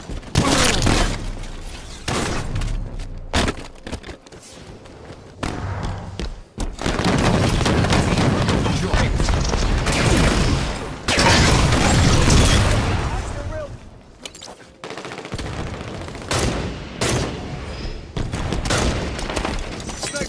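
Hydra weapon fire and explosions in Halo 5 roll through a dense, loud firefight of thuds, booms and shattering blasts, with voices calling out over the combat.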